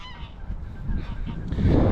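Geese honk nearby in a few rough calls beside the Trent & Mersey Canal, with a low rumbling background that grows louder toward the end.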